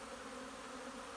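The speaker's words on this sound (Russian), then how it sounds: "пчела сегодня летит здорово" Honeybees buzz in flight around hives at a sunny apiary, a steady, dense swarm drone with no break, close and even in level throughout.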